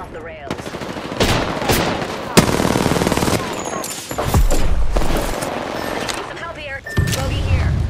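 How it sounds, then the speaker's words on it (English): Gunfire in the battle-royale shooter Apex Legends, with several bursts of automatic weapon fire and sharp shots in a busy in-game firefight, layered over game effects and chatter. "Taking fire. Getting shot at."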